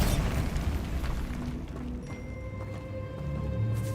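A Bombarda spell blast in Hogwarts Legacy: a loud booming burst at the start that fades into a rumbling tail under a low ambient drone, with faint tonal game sounds lingering afterward.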